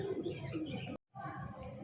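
Domestic pigeons, including a blue-bar bird, at a pigeon market, giving soft, low cooing calls close by, briefly cut off by a gap of silence before resuming.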